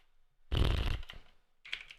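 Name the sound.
typing on a computer keyboard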